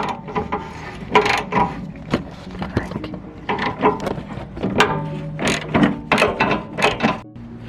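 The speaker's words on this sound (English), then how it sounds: "just got the nut off. The 18mm." A hand ratchet clicks in quick uneven bursts while backing off an 18mm nut on a Porsche 997 motor mount, loud and close, with short pauses between strokes.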